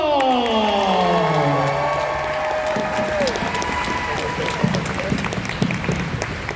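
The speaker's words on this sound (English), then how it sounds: "keep the applause going for Detective Vukovic." A large audience at a Terminator 40-year reunion event in New Orleans applauds and cheers loudly and continuously, while gliding tones from the stage fade out over the first few seconds.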